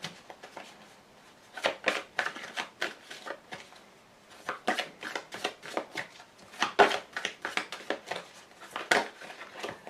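Playing cards, from a Mademoiselle Lenormand fortune-telling deck, are shuffled and drawn close up, producing quick soft riffling slaps and flicks in irregular bursts against a quiet room.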